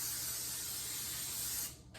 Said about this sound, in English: I may spray this too